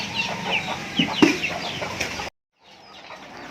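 Abuyo chickens clucking and squawking close by in a busy cluster, some wing flapping, before the sound cuts out to quiet background.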